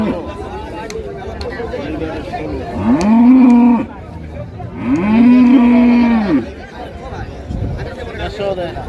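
Two long, loud cow moos, one after the other, over a steady murmur of people talking nearby at a cattle market.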